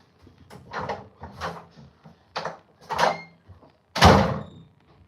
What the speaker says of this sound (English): Sorry for the loud ass doors, guys.